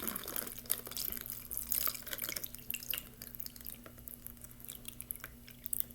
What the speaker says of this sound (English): So I'm just going to fill this with warm water.